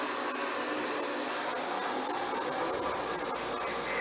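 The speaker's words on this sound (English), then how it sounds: "Turn that vacuum on." A dust-removal vacuum runs with steady suction as a loud, continuous broadband hiss and roar, filling the whole stretch without pause or talk.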